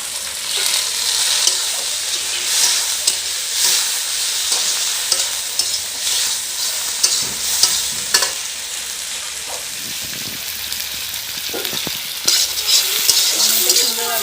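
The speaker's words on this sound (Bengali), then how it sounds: "এখন আমি কেটে রাখা টমেটো দিয়ে দেবো" Chopped tomatoes go into chicken frying in a pan, a loud continuous sizzle with scraping stirs and occasional clinks of a utensil against the pan, no talk.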